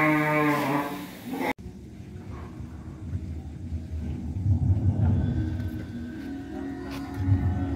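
Sacrificial cattle at a farm selling jumbo Qurban bulls, heard as low continuous rumbling animal sounds and stirring in a busy pen, with a brief bleat-like call near the start before an abrupt cut.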